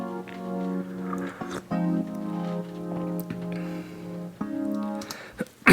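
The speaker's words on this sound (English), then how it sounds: "I've got this electric piano here, which on its own sounds like this." Electric piano track soloed from a song mix, sounding sustained harmonic chords that change every second or so, clear and upfront with no other instruments.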